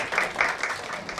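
Applause for two student council president candidates at a joint candidates' debate at POSTECH, a short steady wash of clapping from an audience in a hall.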